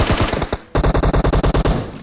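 Rapid automatic gunfire in the mobile battle royale game PUBG Mobile, a loud burst of closely spaced shots, a short pause, then a second steady volley of about a dozen evenly timed rounds.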